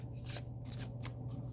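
Tarot cards shuffled by hand at close range, a quiet steady riffling and sliding with repeated soft flicks.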